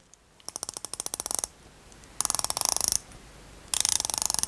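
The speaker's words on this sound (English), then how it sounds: "the 300 and the 300T are really easy to grip. It's a lovely click as well. Have a little listen." Ratcheting bezel on Doxa 300 and 300T dive watches, turned in three runs of crisp, evenly spaced clicks at close range with short pauses between them and no talking.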